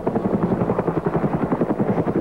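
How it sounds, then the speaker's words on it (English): A helicopter flies overhead during a search in frigid weather, its rotor thumping in a fast, even, pulsing beat that stays loud and close throughout. "Helicopters beat a path through the sky,"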